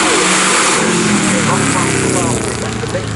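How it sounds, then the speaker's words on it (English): A 1964 Curtis Craft IndyCar racer with an Offenhauser engine climbs the Goodwood hill at full throttle, its loud, raspy engine note close and sustained, with a commentator talking over it. "The Curtis Craft, Offenhauser, twitching up towards the flag."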